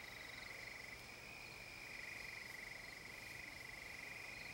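Frogs croak in a steady, continuous chorus with a shrill, pulsing trill layered over a soft background hiss, and no voices are heard.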